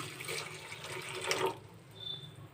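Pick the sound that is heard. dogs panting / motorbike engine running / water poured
water poured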